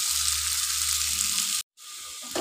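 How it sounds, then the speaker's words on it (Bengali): Potatoes frying in a pan of oil for a paneer masala curry give a loud, steady close sizzle that cuts out for a moment, then resumes. "এটা ভালো করে ভেজে একদম লাল লাল করে ভাজা হবে।"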